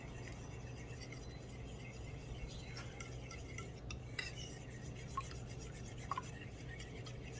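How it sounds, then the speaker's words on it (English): Hot cream is stirred into egg yolks for espresso crème brûlée, a quiet, continuous scraping and swishing of a utensil against a bowl with a few soft clinks, and no talking. "Take some of the hot cream and slowly mix it in."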